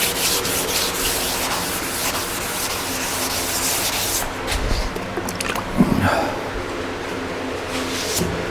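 Block sanding an MGA car body before paint: continuous rhythmic rubbing strokes of abrasive on the panel, close and steady, with a short pause and a few knocks near the end.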